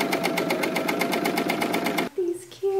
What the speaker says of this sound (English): I'm gonna go sew all of my boot lining and the regular pieces together